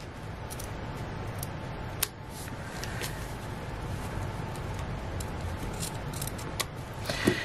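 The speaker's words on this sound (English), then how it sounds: "I'm just going to trim these ends up here" Scissors trimming the ends of ribbon on a handmade card: a few quick, close snips spread across a quiet background, with no talking.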